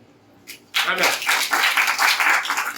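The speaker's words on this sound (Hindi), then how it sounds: "वेरी गुड, ताली बजाओ" A church congregation breaks into clapping after a brief quiet, a few early claps followed by a sustained burst of many hands that keeps going strongly to the end.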